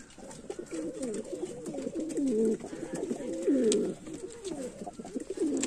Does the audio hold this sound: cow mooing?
no